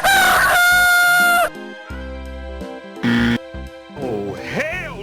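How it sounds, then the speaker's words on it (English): Rooster crowing from an animal-sounds toy, a loud sustained cock-a-doodle-doo at the start followed by other electronic toy tones and chirps. "Rooster."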